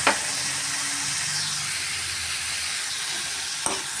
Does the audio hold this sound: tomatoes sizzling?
yes